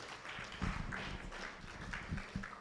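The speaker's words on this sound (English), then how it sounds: "let's give him another round of applause" An audience at a Ghana population prospects dissemination event gives a steady round of applause, a dense wash of clapping that holds level throughout with a few louder hand claps standing out.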